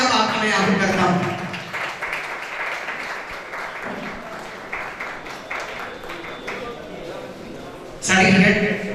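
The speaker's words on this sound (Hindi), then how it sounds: "जोरदार तालियां अब आपकी मैं आह्वान करता हूं।" Audience applause at an award ceremony, steady clapping running under a man's amplified speech, with a louder burst of clapping near the end.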